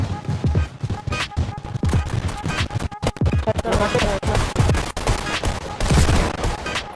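Pistol gunfire in the video game Fortnite, with rapid bursts of shots and sharp cracks, mixed with game effects while players talk excitedly.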